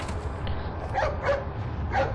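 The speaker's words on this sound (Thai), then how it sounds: "เจ้านี่ก็คือสุนัขแทนคุณที่เราช่วยไว้นั่นเองนะฮะ ในพาร์ทที่หนึ่ง" In Resident Evil 4, a rescued dog gives three short barks, spaced close together over steady game background noise.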